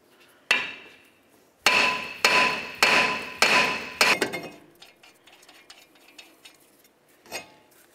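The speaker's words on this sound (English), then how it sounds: "give this a little bonk to try to get it off of here" A hammer strikes to free the wheel hub and rotor from a 2007-2011 Toyota Camry. One sharp metallic bang comes first, then a quick run of five ringing blows, followed by lighter clinks and a final faint tap.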